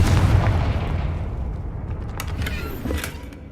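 A Confringo blasting spell explodes in Hogwarts Legacy: a loud low boom with a rumbling tail, followed by fainter crackling bursts and a smaller thump near the end, with no talk.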